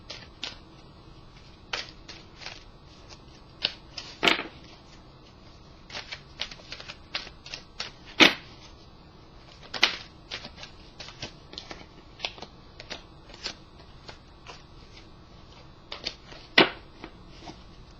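A deck of angel cards is handled and shuffled, producing quiet, close riffles and crisp card snaps scattered irregularly, with a few sharper slaps standing out over a calm background.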